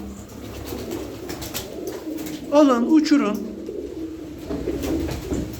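Pigeons coo low and throaty from a loft, close by, under a voice.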